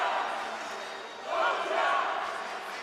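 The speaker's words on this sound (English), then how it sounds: "Crowd going off Georgia and Polish crowd." Georgian and Polish fans roar at a EuroArm 2017 senior right-arm arm wrestling final, a dense crowd cheer that swells loudly midway and stays sustained to the end, with no clear single voice.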